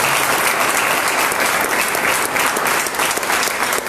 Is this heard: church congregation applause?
yes